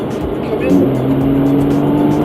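Porsche 911 (991) Carrera S engine running with Sport Plus mode on, holding a low, steady burbling tone that swells slightly and then stays level, close and loud.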